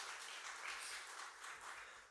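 A church congregation claps together during a Sunday service, a dense, steady burst of applause heard from within the room, fading slightly at the end.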